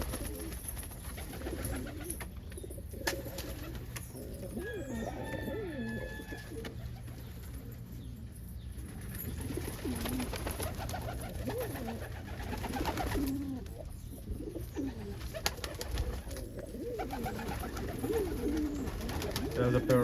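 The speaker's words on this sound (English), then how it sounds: "There's a pair of saddle homers that are perfectly marked, but that's a good pair." Saddle homer pigeons coo repeatedly at close range, soft throaty phrases recurring through the scene, with someone talking over them at times.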